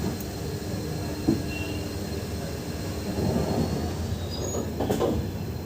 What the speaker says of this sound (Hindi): अब मैं आपको इस ट्रेन का चंदौसी जंक्शन से डिपार्चर दिखाता हूँ